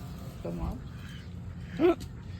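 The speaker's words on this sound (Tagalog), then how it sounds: "There's a duck" A duck gives a short, loud quack close by near the end, with faint background chatter and a brief earlier murmur; a family outing setting.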